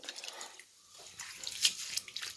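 Keezhanelli herb leaves are washed by hand in water, with faint sloshing and splashing, then brighter dripping and trickling close by, and no voices.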